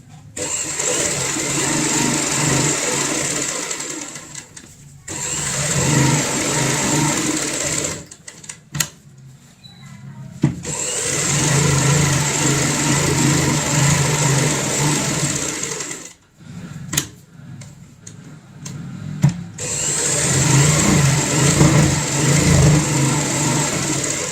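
A sewing machine stitches along a marked line on a cushion cover, running in four long, loud bursts of rapid mechanical whirring separated by short pauses with a few clicks.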